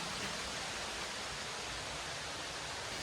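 Steady broadband roar of a waterfall in Bali, heard from a ridge viewpoint, a dense continuous rush of falling water with no breaks and no voices.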